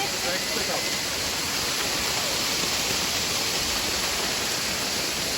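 Savruk Waterfall in Kahramanmaraş roars as a steady, loud wash of rushing water, a dense unbroken roar filling the whole scene from start to finish.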